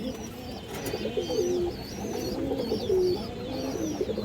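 Several pigeons coo steadily in a home loft, overlapping low rolling calls repeating every second or so against a busy background of other birds, with no talking.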